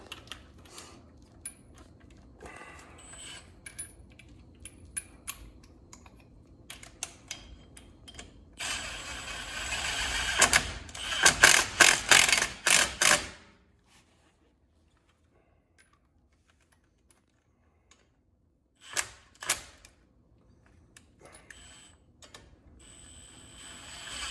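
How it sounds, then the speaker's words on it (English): Lug nuts go onto a new front brake rotor on a 1984–2001 Jeep Cherokee, with scattered close metallic clicks and a dense burst of rattling clatter, then silence and a final brief clink. "we'll chuck a couple of these lug nuts on just to keep some tension on it"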